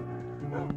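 A dog barks in the Minecraft video game: a single short, high yip near the end of a brief moment, close and fairly clear over a low background hum.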